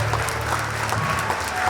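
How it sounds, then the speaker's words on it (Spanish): A church congregation breaks into loud, dense applause, a continuous wash of clapping filling the room with a low hum underneath, steady and sustained throughout. "Fuertes aplausos a nuestro Dios"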